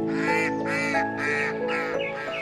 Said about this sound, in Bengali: সাত সকালে জলকেলিতে মেতে ওঠে হাঁসের দল।